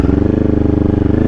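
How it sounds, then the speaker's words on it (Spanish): A Kawasaki Ninja 400 motorcycle engine runs steadily close by, a low throbbing rumble with a fast regular pulse and no speech over it. "cómo suena la moto."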